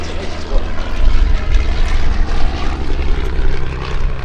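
A WWI Fokker triplane and biplane, fabric-and-wire aircraft, fly at an airshow with a loud, continuous propeller engine drone overhead, close and sustained, with some faint voices beneath it.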